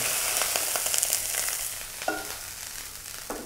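Meatballs made with Italian sausage and ground beef sizzle as they are tipped into tomato sauce, a steady close frying hiss with a few brief stirring clatters.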